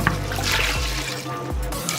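Water poured into a cooking pot with whole spices, garlic and ginger to make mutton stock: a short, splashy gush lasting about two seconds, close and alone.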